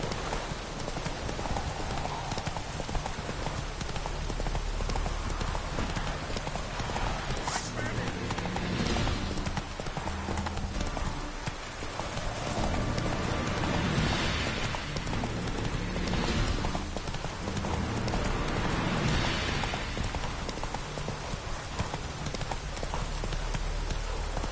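Horse hooves clip-clop steadily on the ground in The Witcher: Wild Hunt, a continuous rhythmic trot with a rain-like hiss behind it and a rider's occasional urging voice.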